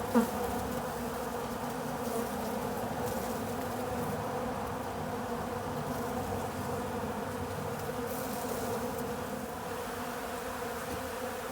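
A dense, steady drone of many honeybees buzzing close by, piling into a hive during a heather honey harvest, continuous and unbroken throughout.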